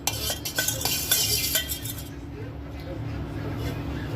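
A spoon spreads curd around the inside of a cooking pot with a quick run of close scraping strokes that fade into a quieter steady background. A voice can be faintly heard alongside.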